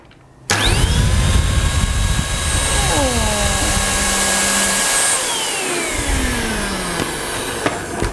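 A budget Deerma vacuum cleaner switches on abruptly and whines loudly up close, its pitch shifting as it sucks up a prepared pile of dust and hair, with a person speaking over the steady roar.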